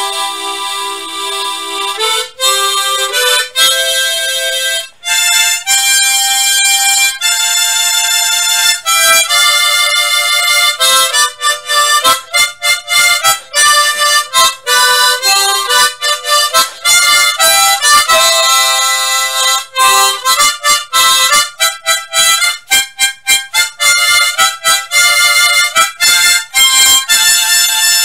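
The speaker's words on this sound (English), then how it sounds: "when you play a chord, it actually tremolos or waves a little bit" An Aklot tremolo harmonica plays a continuous run of chords, bright and loud, with a slight wavering shimmer through the sustained tones.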